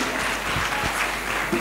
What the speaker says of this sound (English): Please give them a big round of applause again.